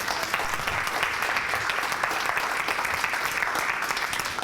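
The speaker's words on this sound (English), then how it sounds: "What about a big round of applause for Doug?" A big round of audience applause for a guest at a social media talk, a steady wash of clapping throughout with no one speaking over it.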